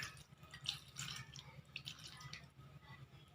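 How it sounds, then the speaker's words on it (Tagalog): Water is added to pinangat na sapsap, a fish and tomato dish simmering in a pan, giving faint, scattered drips and small splashes close by. "Lalagyan na natin siya ng tubig."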